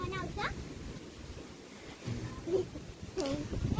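Strong wind gusting across an open farm area, a steady buffeting rush that hits the microphone, with people talking through it.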